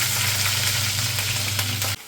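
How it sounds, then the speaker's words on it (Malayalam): Green chillies, garlic and dried chillies fry in hot oil, a steady, close, dense sizzle that runs unbroken before stopping abruptly near the end. "അങ്ങനെ നമ്മുടെ പച്ചമുളകും വെളുത്തുള്ളിയും ഉണക്കമുളകും എല്ലാം കൂടി എണ്ണയിലിട്ട് മൂപ്പിച്ചോണ്ടിരിക്കണം"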